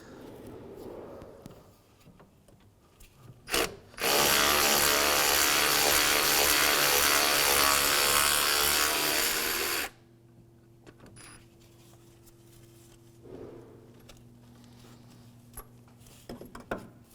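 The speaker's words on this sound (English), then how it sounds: "With a 12mm socket, we're going to remove this bolt here." A 12mm socket backs out an alternator bolt on a 2011-2016 Hyundai Elantra, heard as one loud, steady mechanical whir lasting about six seconds, framed by quieter clinks and handling noise before and after.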